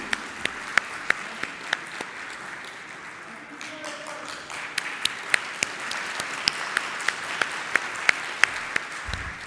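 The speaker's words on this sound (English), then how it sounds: "Big round of applause to" An audience at the ICAP CFO Conference Middle East 2016 applauds Kazi Waqas Ahmad, the clapping filling the hall as a sustained wash with regular sharp claps standing out, and a voice speaking underneath.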